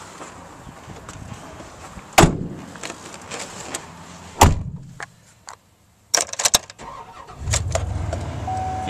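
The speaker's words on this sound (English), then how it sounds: "Vehicle goes on" A 2004 Chevrolet 2500HD 4x4 truck starting up: sharp clunks from the door and key, then the engine cranks and catches into a low idle, heard nearby.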